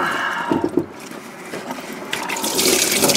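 Coolant pours and splashes from an upper radiator hose pulled off a Dodge Neon with an SRT-4 engine swap, a steady liquid gush that grows louder toward the end.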